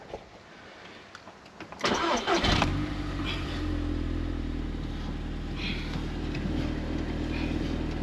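An Audi TT's engine cranks briefly and catches with a sharp burst, then settles into a steady, rumbling idle that continues close by with no one talking.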